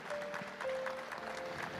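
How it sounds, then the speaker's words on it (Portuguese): A church congregation applauds God during a Catholic morning prayer gathering, with steady clapping from the crowd, fairly faint and distant, with a tonal sound running underneath. "Vamos aplaudir o nosso Deus, que é de fato o dono dos diamantes. Pode aplaudir mais forte"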